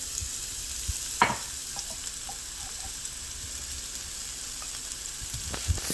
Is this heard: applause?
no